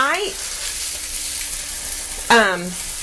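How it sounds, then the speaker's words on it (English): Salmon sizzling steadily in a hot pan, a low continuous fry under the whole stretch, with brief voices talking near the start and again toward the end while the fillet is turned with tongs. "We're going to flip it. We're going to use our tongs a little bit."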